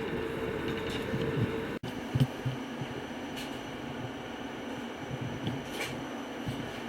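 RegioJet passenger train pulling into Vienna on the Prague–Vienna route, a steady low rumble of running gear heard from inside the carriage, with a brief dropout and a few soft knocks and clicks over the constant hum.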